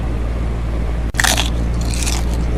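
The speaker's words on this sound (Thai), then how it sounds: "เสียงกินแม่งโคตรกรอบพิซซ่าอะไรวะเนี่ย" A single loud crunchy bite of pizza in a video game, followed by a second softer crunch a moment later, over a steady low electronic hum.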